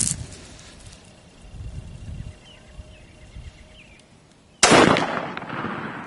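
A 6.5 Grendel rifle fires a single practice shot at a distant target. After several quiet seconds of faint background, one sharp, loud report rings out near the end and decays over a short tail.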